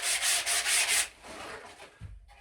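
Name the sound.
sanding rough edges of narrowboat hatches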